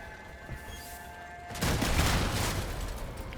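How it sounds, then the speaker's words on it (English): Incoming gunfire hitting the player in a video game battle, a dense, loud burst of rapid shots and impacts that starts suddenly midway and keeps rattling on, with a faint tonal hum before it. "I'm still getting shot by two people"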